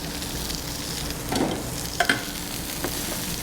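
Shrimp frying in a pan with garlic and shallots for restaurant-style shrimp scampi, a steady close sizzle with a few stirring scrapes and clinks, no voice.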